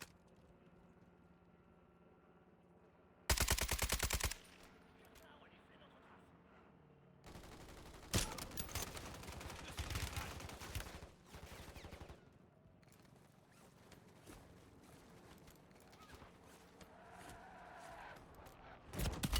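Video game gunfire comes in loud bursts of rapid automatic shots, one sharp burst early and longer volleys midway, with players talking between the shots.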